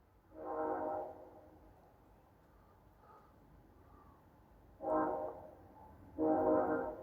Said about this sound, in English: Listen to that train as I'm saying this.